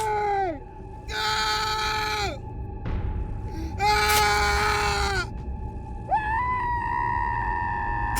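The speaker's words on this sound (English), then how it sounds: "They're screaming, dude." Screaming characters in a video game, a series of high, wavering wailing cries that rise and fall, separated by short gaps, loud and close over a low game background hum.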